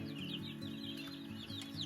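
Farm chickens, meat birds and laying chicks, cluck softly and repeatedly during a late night check, with low murmuring clucks and higher chirps close together throughout.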